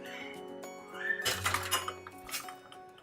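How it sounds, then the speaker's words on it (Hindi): A spoon clinks and scrapes against a pot while stirring chicken hot and sour soup, bright metallic taps and rattles in a short burst, close and fairly clear. "इस तरह से आप इसको साथ साथ चम्मच चलाते रहें इस तरह से"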